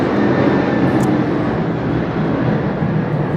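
A low-flying aeroplane passes overhead on an island, heard as a loud, steady, broad engine roar that holds for several seconds with no speech.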